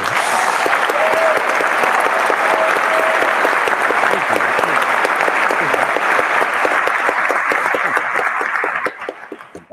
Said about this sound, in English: please give a round of applause to Rhodes Rants on Star Wars.